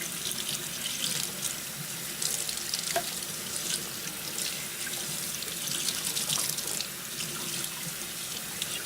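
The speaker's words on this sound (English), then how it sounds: "So let me just wash this off." Tap water runs steadily into a sink while lemongrass stalks are rinsed under it, a close continuous hiss and splash with small shifts as the stalks move through the stream, no talking.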